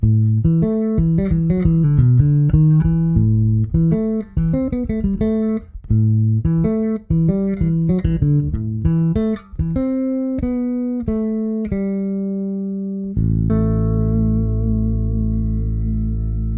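Clean bass guitar through a Trace Elliot Elf bass head plays a melodic run high on the neck, round and sustained, ending on a long held low note.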